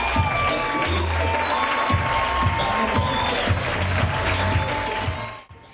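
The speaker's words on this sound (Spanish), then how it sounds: "démosle un aplauso al personaje principal del escenario, Jesucristo" A large theater audience cheers and applauds loudly and continuously after a stage performance, with shouts mixed into the clapping before it cuts off abruptly.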